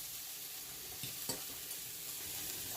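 Vegetable pancakes frying in a pan, giving a steady soft sizzle throughout with a couple of faint clinks from utensils, no talking.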